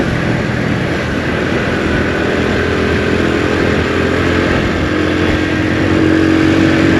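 A 2022 Honda CD 70 motorcycle rides through Islamabad streets, its small single-cylinder engine droning steadily and loudly for the whole stretch, with wind noise and no talking.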